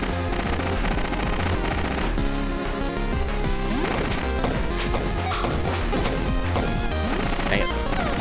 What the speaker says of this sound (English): Yeah, these things just shoot out bullets.